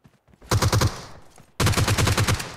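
Shotgun fire in the battle-royale game BGMI (PUBG): two loud, close bursts of rapid shots, each a rattling string of blasts, split by a short quieter gap.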